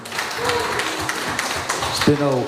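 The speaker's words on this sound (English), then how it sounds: "How about a round of applause for Luau?" Applause rolls through the crowd at a fitness games media day, a steady wash of clapping with an announcer's voice talking over it.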